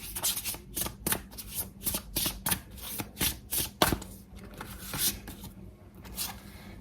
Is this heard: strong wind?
no